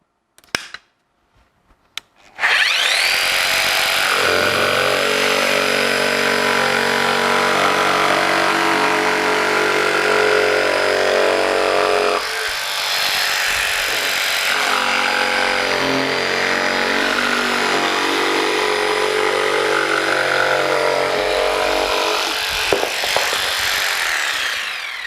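Festool PS300 jigsaw cutting wood with the pendulum action set to 3, running loud and continuous close up for about twenty seconds after a few brief starting clicks, the tone shifting slightly midway; no speech.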